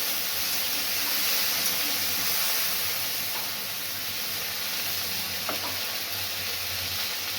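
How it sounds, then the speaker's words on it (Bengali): Cauliflower pieces fry in hot oil, giving a steady, close sizzle with soft bubbling and occasional faint clinks, no voices over it. "কপিগুলো আমি ভেজে তুলে নেব।"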